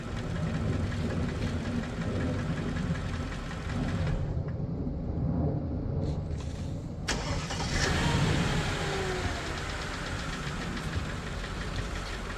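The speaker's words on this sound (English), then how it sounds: "I'm going to shut it off and then turn it back on, and you'll see this engine starts with no hesitation at all." A Mercedes-Benz S-Class W220 (S430/S500) engine drones at idle, goes quiet briefly when switched off, then cranks and catches promptly before settling back into a steady, close idle with a faint ticking knock.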